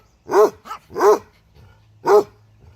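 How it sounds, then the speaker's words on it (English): A dog barking close by, three loud, full barks with a short yip between the first two and a longer gap before the last. "What are you barking at?"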